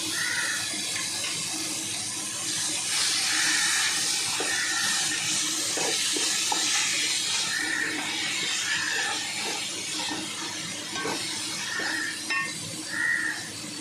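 Mint and coriander leaves sauté in a pan for mutton biryani, giving a steady hiss of steam and sizzle with occasional soft clinks of a spoon against the pan throughout.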